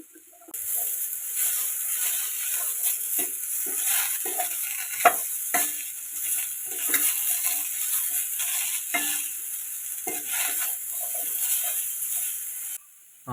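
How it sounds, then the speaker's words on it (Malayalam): Chopped rose apple (chambakka) sautéing in a pan for pickle, a steady soft sizzle with scattered stirring clicks and scrapes of a spoon against the pan, close and continuous throughout. "അരിഞ്ഞു വച്ചിരിക്കുന്ന ചാമ്പയ്ക്ക അതിലേക്ക് ചേർത്ത് കൊടുക്കാം. എന്നിട്ട് നന്നായിട്ട് വഴറ്റിയെടുക്കാം."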